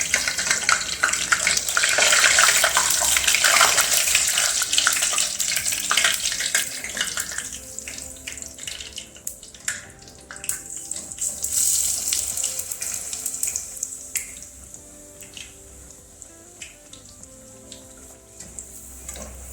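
Wheat flour puris fry in hot oil with a loud, dense, continuous sizzling hiss that gradually thins into lighter crackling and bubbling.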